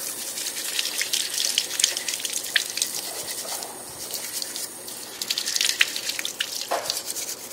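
Tap water runs over a stained glass piece to wash off soldering flux, a close, steady splashing and trickling with scattered drips and gushes.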